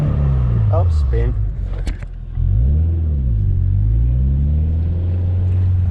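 A car spinning out while street drifting through floodwater, its engine revving and rising and falling in pitch over a loud steady rumble, with a brief voice near the start.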